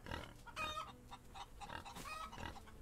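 Chickens cluck in the farmyard of the video game Outlaws of the Old West, with pigs grunting nearby; several bursts of clucking and squawks come at moderate distance without speech.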